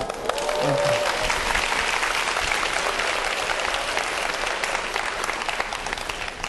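An audience at a science forum lecture gives sustained, dense applause that holds steady for over six seconds, with a brief voice near the start.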